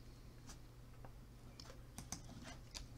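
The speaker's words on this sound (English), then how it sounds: "And we'll go ahead and type our" A password is typed on a computer keyboard in a few quick, faint key clicks over a quiet background.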